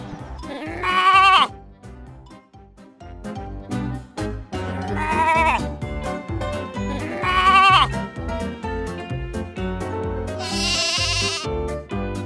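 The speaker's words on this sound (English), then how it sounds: "Sheep." Sheep bleat loudly in a kids' animation, several long wavering calls in a row over a busy music track, with no talk.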